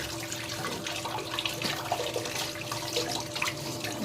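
Running water splashing steadily over vegetables being lightly rinsed at a kitchen sink on a cold day, a continuous close, moderate wash with small clatters and drips, no talking.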